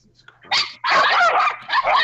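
Several dogs bark and yip close by at a crowded party, in loud overlapping bursts with people talking among them.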